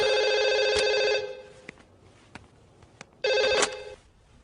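An old-style telephone bell rings twice with a pause between, loud and close, with a few faint clicks in the gap.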